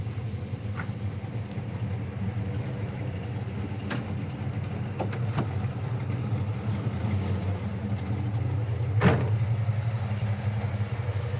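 A 1968 Chevy Camaro engine running steadily with a low, continuous rumble throughout, a few faint clicks and a sharper knock near the end.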